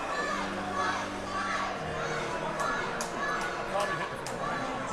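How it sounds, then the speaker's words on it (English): Hockey crowd in an arena during a playoff game, a loud steady mass of shouting and chanting voices with scattered higher yells, continuous and somewhat distant. "Crowd chanting for a fight,"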